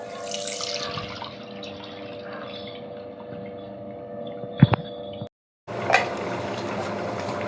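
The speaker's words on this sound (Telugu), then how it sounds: "ఆ పులుసు కూడా దాంట్లోకి వేసేస్తున్నా." Soaked tamarind water is poured into a simmering chicken, cucumber and tomato curry, giving a steady liquid rush over a low hum, with a few clinks and a brief break, no voices.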